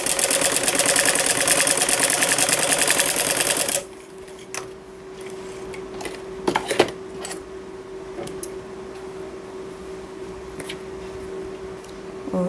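A sewing machine stitches fabric along a buckram edge while sewing a sleeve, running loud and steady for about four seconds, then stopping to leave quiet handling noises.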